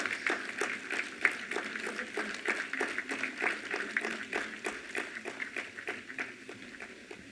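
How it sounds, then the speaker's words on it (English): An audience at a stakeholders meeting on weather and climate services breaks into applause, a sustained patter of many hands clapping that swells early and then slowly fades. "A huge round of applause once again."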